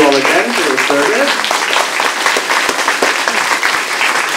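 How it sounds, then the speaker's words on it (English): An audience at a 2022 municipal all-candidates meeting in Tweed applauds for the candidates. The clapping is loud and sustained throughout, with a voice speaking over its opening second. "And a final big round of applause to all of our incredible candidates."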